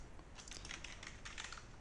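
Quiet, rapid clicking of keys on a computer keyboard, a short run of typing heard alone.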